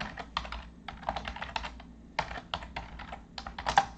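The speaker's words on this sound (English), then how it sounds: "Sorry for my typing." Rapid, uneven typing on a computer keyboard while coding a custom data-binding formatter, close and clear: bursts of clacking keystrokes broken by short pauses, with no talking.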